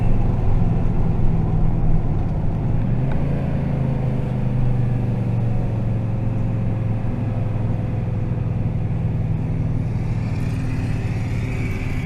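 A riding mower engine runs in second gear while heading down a steep hill, a loud continuous low drone and rumble whose pitch shifts slightly partway through, with no speech.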